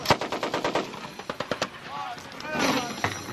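An M60 machine gun fires a rapid burst of about a dozen loud, evenly spaced rounds at army training, then falls quiet as voices call out over the range.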